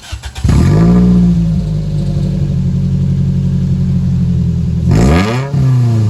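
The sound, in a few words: Toyota Celica engine revving with muffler removed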